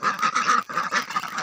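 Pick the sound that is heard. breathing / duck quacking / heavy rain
duck quacking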